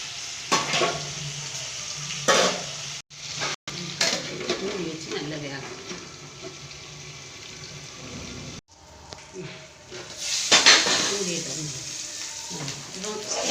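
Brinjal tossed and frying in a pan at home, with a sizzling hiss broken by clattering tosses and utensil knocks, a couple of abrupt cut-offs, and running-water noise near the end, close by.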